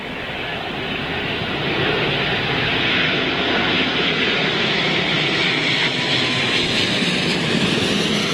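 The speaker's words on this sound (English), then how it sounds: "These big Rolls-Royce engines, ladies and gents, look at them." Airliner powered by big Rolls-Royce jet engines landing on runway 27L at London Heathrow during a storm, its loud, steady roar building over the first two seconds, then holding broad and continuous with wind noise mixed in.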